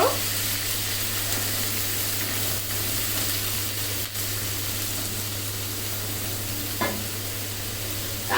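Coriander powder and red chilli powder frying and being stirred in a pan for malai kabab: a continuous close sizzle with occasional faint scrapes, steady throughout.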